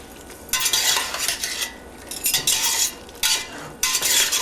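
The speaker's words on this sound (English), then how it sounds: "I'm going to mix everything together with the garlic and the ginger" A spoon stirs a mixture with garlic and ginger in a pot, giving repeated scraping strokes in bursts of about a second with short pauses between them, close and fairly loud, with no voices.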